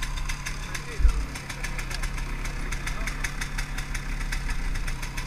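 MZ 250 two-stroke motorcycle engine idling steadily nearby with a rapid, even ticking pulse and a brief thump, moderately faint, under some background talk.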